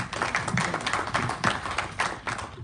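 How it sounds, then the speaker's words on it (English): An audience claps steadily for a few seconds, a moderately distant patter of many hands with no talking over it. "You're the first one that got an applause to start with."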